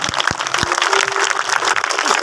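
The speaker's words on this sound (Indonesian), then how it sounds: "Kita beri tepuk tangan buat Tuhan Yesus." Church congregation applauding together, a dense steady wash of many hands clapping at close range for the full length, with a few stray voices mixed in.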